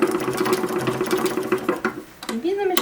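A sewing machine runs steadily, stitching an 1880s-style late bustle skirt, its rapid mechanical whir continuing through the clip with a brief slowdown near the end, close and moderately loud, while someone talks over it.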